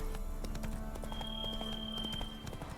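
Horse hooves clip-clopping at a steady walking rhythm in The Witcher 3, a run of quiet, even hoof beats over a faint game backdrop with a thin whistling tone in the middle, and no voices.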